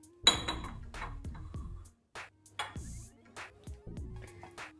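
Dishes and a spoon clink and knock with ringing, irregular taps as tomato coriander chutney is moved into a bowl. The sounds are close and moderately loud in a quiet kitchen.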